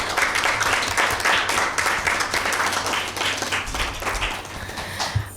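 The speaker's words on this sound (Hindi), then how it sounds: "तो मैं आपको भरपूर तालियों में आज के प्रोग्राम में वेलकम कहती हूँ" Dense audience applause welcoming two quiz teams at a Mother's Day Bible quiz program, steady clapping that stays loud throughout and tapers slightly near the end.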